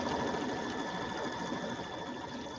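An embroidery machine quilts a quilt block with a steady, fairly quiet mechanical hum that runs without a break.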